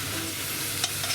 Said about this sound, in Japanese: これで水分飛ばしながら炒めていきます。